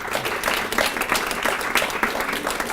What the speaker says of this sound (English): And could we give a round of applause for Dr. Bernard Lafayette down there?